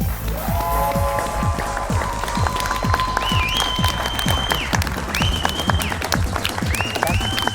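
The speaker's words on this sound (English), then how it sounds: "There's got to be South Johnston people clapping, right?" A high school quiz show's studio audience claps steadily and densely throughout, fairly close and loud, with electronic tones sounding over the applause.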